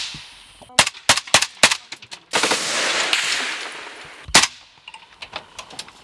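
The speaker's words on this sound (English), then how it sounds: "This time, the enemy uses small arms. Therefore, so do the Ukrainian soldiers." Small arms gunfire at a Ukrainian checkpoint near Mayorsk, loud sharp shots in quick bursts, a dense rattling stretch of automatic fire, then a few more scattered cracks.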